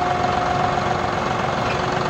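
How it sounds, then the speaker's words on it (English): Tractor engine running steadily at a low, even throb, close and loud with no pauses or changes in pace, used to knock down a tree. "To knock down that tree with the tractor, apparently."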